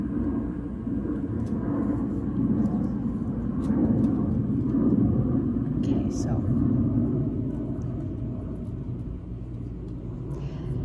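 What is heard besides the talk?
airplane flying overhead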